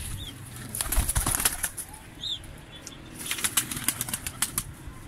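Pigeons flap their wings close by in a loft, bursts of rapid clattering wingbeats at the start and again toward the end, with a faint coo between, no talking.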